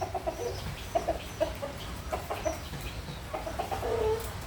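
Small chickens clucking in short, irregular bursts, fairly faint against a noisy outdoor background, with no talk over them.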